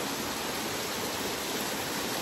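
A waterfall roaring as a steady, dense rush of water, constant and fairly loud throughout with no other sounds.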